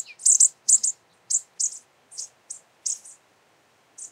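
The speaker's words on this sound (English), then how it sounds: "Here's a flock of bush tits giving their soft little pit, pit, pit notes." A flock of bushtits, tiny songbirds, gives a rapid series of soft, high pit notes in short clustered bursts, close by against a quiet background with no talking.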